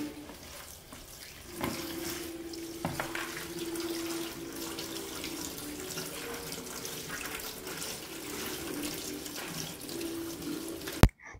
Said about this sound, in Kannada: ನಾನು ಈ ಸೊಪ್ಪನ್ನು ಚೆನ್ನಾಗಿ ತೊಳಿತಾ ಇದ್ದೇನೆ